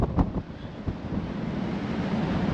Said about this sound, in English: really cold and really windy